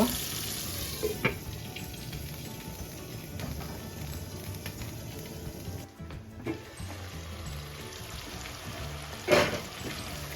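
Onions soften with a splash of water in a pan for a hilsa fish curry with local taro, a steady close sizzle running throughout with a few soft clinks and stirs.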